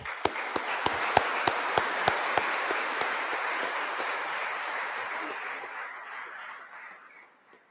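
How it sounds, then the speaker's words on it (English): An audience at the Goa Institute of Management, gathered for the Dalai Lama's visit, breaks into dense, sustained applause with sharp isolated claps standing out early, then the clapping gradually thins and fades away. "A round of applause, please."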